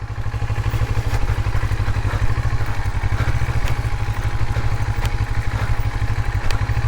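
Steady idle chug of an NK400 motorcycle engine with a firm low pulsing rhythm and some mechanical clatter, constant and close, no talking.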